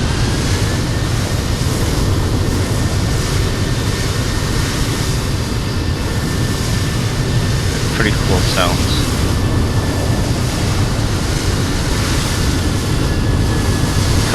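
Airliner engines at Denver International Airport in Colorado, simulated in Microsoft Flight Simulator 2020, make a steady broadband roar and whoosh that fills the whole stretch, with a person talking over it.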